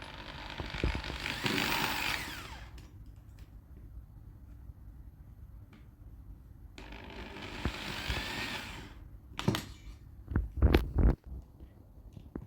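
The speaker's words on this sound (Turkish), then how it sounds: "Kendimiz açacağız bu delikleri vidalarla ve matkapımızla." Bursts of a power drill whirring in short runs, driving screws into a metal-legged side table, separated by quiet gaps, ending with a few sharp clicks and knocks, close and moderately loud.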